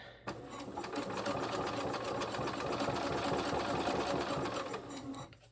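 A sewing machine stitches through sturdy waxed canvas in one continuous close run of rapid mechanical whirring and needle clatter, starting and stopping cleanly with no voice over it.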